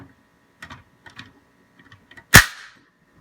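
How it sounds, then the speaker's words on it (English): A spring-loaded plunger fires from a physics lab cart with one sharp, loud snap, preceded by a few faint clicks from handling the cart and followed by a brief ringing decay. "when we depress the button, the plunger comes shooting out"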